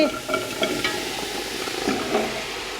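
Pieces of red kuri squash tumble into a saucepan for a velouté, with a few quick knocks and scrapes over a soft, steady kitchen hiss.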